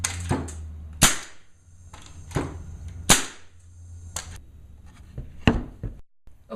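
A compressed-air tool fires in a series of sharp, loud bursts as its trigger is pulled, about six distinct pops with short pauses between them, running over a steady low compressor hum.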